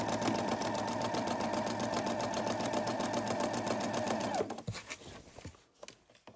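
A sewing machine runs in a fast, steady mechanical whir of stitching for about four seconds, then stops, leaving light handling noises.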